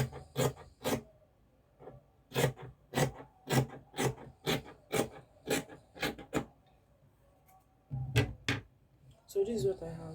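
Fabric being trimmed for a crop shirt gives a run of crisp, rhythmic scissor snips close up, in short regular bursts with a brief pause and some handling noise at the end.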